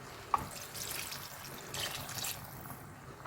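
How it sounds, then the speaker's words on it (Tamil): Water poured into cooking masala for an okra gravy makes a soft, close trickle that runs steadily at low volume, with no voices over it. "இப்போ கொஞ்சம் தண்ணி ஊற்றிக்கலாம்"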